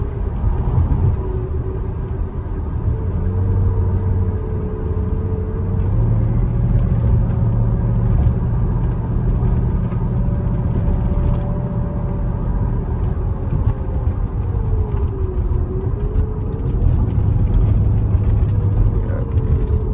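A 2006 Mercedes-Benz SL500 V8 on coilover suspension hums and rumbles steadily while cornering, its pitch shifting slightly as it moves, with a voice murmuring underneath.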